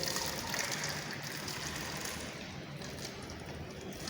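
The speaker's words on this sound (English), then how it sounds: "Now what I am going to do is pour water into the bottle" Water pours steadily into a glass bottle fitted with a glass tube, making a continuous gurgling trickle at moderate level throughout, with no one speaking over it.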